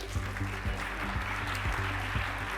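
Audience applause at an innovation prize ceremony, a steady wash of clapping from many hands held throughout, with a host speaking over it.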